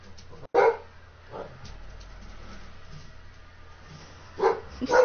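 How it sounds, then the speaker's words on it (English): A dog indoors barks a few loud, sharp times, once near the start and again near the end, with quieter low sounds between. "Stop barking."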